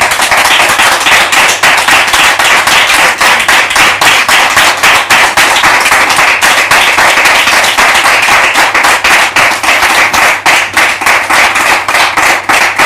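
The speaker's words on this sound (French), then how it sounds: "Merci de recevoir la prophétesse sous vos applaudissements" A studio audience applauds loudly and continuously, dense rhythmic clapping close up that holds steady throughout without talk.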